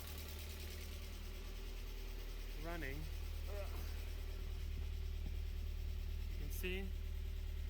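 A rebuilt Mazda Miata engine idles with a steady low drone throughout, while someone speaks briefly over it.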